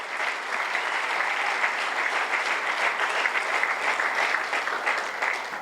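A church congregation at a sermon by Apostle Dr. Nkurunziza François applauds steadily, dense even clapping filling the hall for several seconds without talk.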